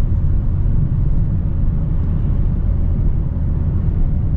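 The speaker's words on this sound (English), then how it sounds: "I'm gonna short shift through here quite a bit" A 2022 Mazda MX-5 Miata RF Grand Touring drives with the transmission short-shifting through the gears. A loud, steady low engine drone and road rumble come from inside the cabin with no clear breaks.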